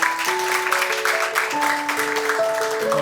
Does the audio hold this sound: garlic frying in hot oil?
no